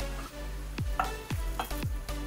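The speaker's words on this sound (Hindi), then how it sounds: "हमारा पैन गरम हो गया है, अब मैं इसमें डालूंगी लाल मिर्च, साबुत लाल मिर्च" Whole dried red chillies sizzle and crackle in hot oil in a heated pan for a chutney tempering, a steady close fry broken by several sharp stirring or spattering bursts, with no talking.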